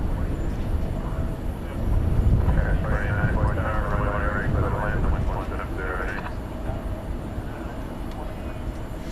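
An Atlas Air Boeing 747-8 on flight 8991 at DFW airport at night, a broad distant jet engine roar with a rising whine in the middle, heard under someone talking throughout.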